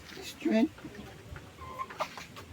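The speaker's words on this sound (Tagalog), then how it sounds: "bigyan na natin sa ating mga buff orpington para makabawi sila doon sa mga nawala nilang strength" Buff Orpington chickens cluck softly and briefly in a coop, a low close cackle followed by faint scattered clucks under quiet background noise.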